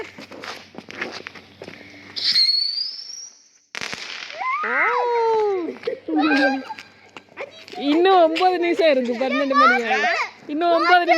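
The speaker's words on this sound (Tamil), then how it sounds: "வெடி போடுறாங்க பார்த்தீங்களா" Firecrackers go off during a New Year celebration: a couple of sharp bangs near the start, followed by lively children's voices and people talking close by.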